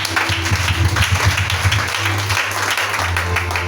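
A church congregation applauds together, a steady wash of many hands clapping with a sustained musical tone and voices underneath, fairly loud and continuous.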